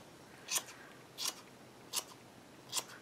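Four crisp scissor snips, evenly spaced about two-thirds of a second apart, trimming a yarn pom pom for a planner clip craft. Each cut is brief and fairly close, with quiet room background in between.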